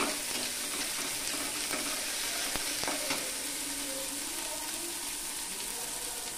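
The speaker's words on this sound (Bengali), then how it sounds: "হলুদ গুঁড়া, জিরার গুঁড়া, পরিমাণ মতো লবণ দিয়ে দেব। দিয়ে একটু কষিয়ে নেব।" Turmeric powder, cumin powder and salt sautéing in a hot pan for a breakfast dish of boiled eggs and flattened rice, a steady close sizzle with a few sharp clicks of a spoon against the pan.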